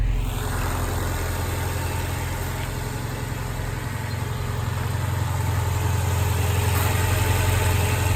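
A 1967 Peugeot 404 Coupe engine idles on choke, a steady, loud, close rumble with a constant low hum that runs unbroken throughout, with no voices.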